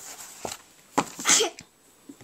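One quiet sneeze nearby, a short breathy burst amid faint clicks and rustling, with no talking.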